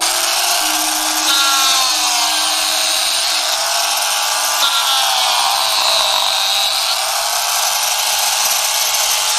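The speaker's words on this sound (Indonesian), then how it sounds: "Suara gergaji mesin dari kejauhan." A chainsaw runs in a forest, its engine droning with a steady buzzing whine that rises and falls in pitch as it cuts, continuous and fairly prominent.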